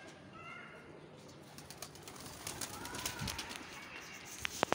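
Pigeons kept on a small rooftop in Sialkot give soft cooing and brief wing flutters, faint against background noise, with a few sharp taps near the end.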